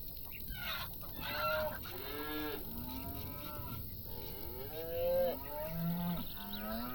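Several cows moo in turn on a Farm Manager 2018 farm, long drawn-out calls over a steady background hum, with faint clucking chickens mixed in.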